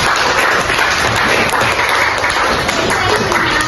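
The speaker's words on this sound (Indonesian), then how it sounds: "tepuk tangan buat kawan-kawannya dong" Applause for classmates during an anti-corruption talk for young students, a steady wash of many hands clapping together at close range with no pauses, loud throughout its few seconds.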